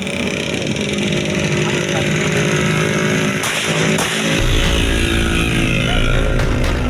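Motorcycles with loud modified brong exhausts roar at an illegal street race in Padang. A dense, raspy engine din runs continuously and close, swelling louder past the midpoint.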